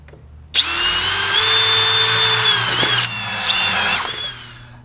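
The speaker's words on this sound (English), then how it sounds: "We'll probably go ahead and hit this with the Scotch-Brite pad also." A power drill spins a Scotch-Brite pad or nylon wheel against metal on an engine part of an 87 Jeep Comanche, a loud steady whine with a whirring abrasive hiss that briefly dips and resumes.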